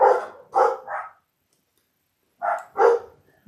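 A dog barks nearby indoors: a quick burst of three loud barks, a pause of over a second, then another two or three sharp barks.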